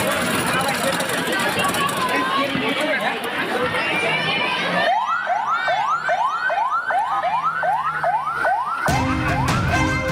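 Wailing ambulance siren rising and falling in repeated loud sweeps, set in an Indonesian school where junior high students in Ciamis, West Java are being evacuated by medical teams; crowd chatter fills the first half before the siren dominates.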